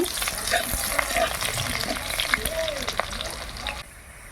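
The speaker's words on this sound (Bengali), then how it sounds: "পেঁয়াজ হালকা করে ভেজে নেব" Onions sizzle and crackle in hot oil with a steady frying hiss, punctuated by light stirring clicks against the pan.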